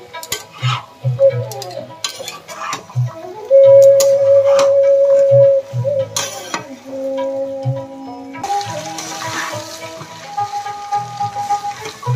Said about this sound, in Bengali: আমি এর মধ্যে মটরগুলো দিয়ে দিলাম, দিয়ে একটু ভালোভাবে কষিয়ে নেব।